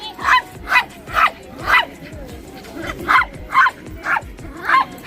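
Street dogs in Kadıköy on the Asian side of Istanbul bark in a regular series of about eight loud, close barks, with quieter whines and background noise between them.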